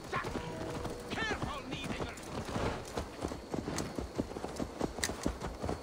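A horse's hooves clip-clop steadily and close by in Assassin's Creed Valhalla, with an occasional snort and voices talking over the hoofbeats.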